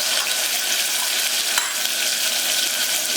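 Steady close sizzle of cumin, chopped green chili, onion and tomato frying in oil in a pan over medium heat, with faint stirring scrapes and no voices.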